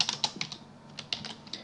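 Quick bursts of keystrokes on a computer keyboard as a file name is typed, crisp close clicks in uneven clusters with short pauses between, no talking.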